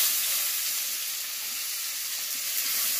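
Sattu (roasted gram flour) fries in a very hot pan, giving a steady, loud, even sizzle with no breaks and no voices.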